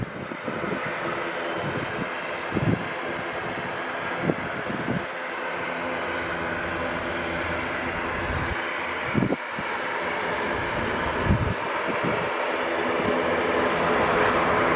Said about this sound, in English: most of the noise we're getting now is actually from the Aer Lingus behind this trees here